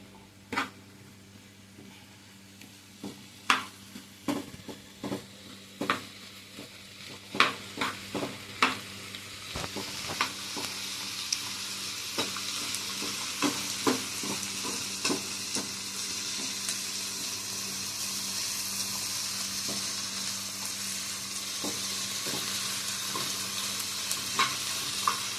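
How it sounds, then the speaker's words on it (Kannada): Coriander and cumin seeds sizzle in hot oil in a pan for a paneer gravy, with sharp scraping stirs early on that give way to a steady, rising hiss of frying, close by and with nobody talking. "ಇದು ಚೆನ್ನಾಗಿ ಫ್ರೈ ಆಗಲಿ."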